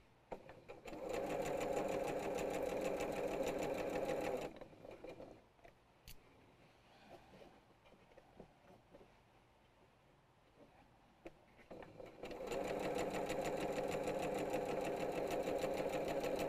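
A sewing machine stitches a quilt panel in two long steady runs, one at the start and one at the end, with a quieter stretch of handling noise between them, up close.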